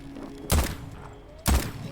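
Two heavy gunshot thuds from firing at the reverser on the train in the game Voidtrain, spaced about a second apart, each a sharp low boom with a short decay over a quiet background.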